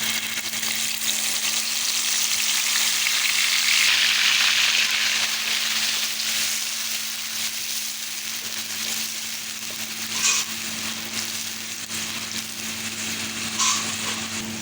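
Freshly added chili paste fries in a pan, hissing and sizzling loudly and steadily up close, with a couple of faint stirring clicks and no voices.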